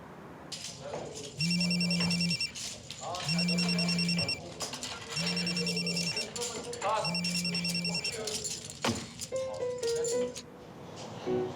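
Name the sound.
telephone ringing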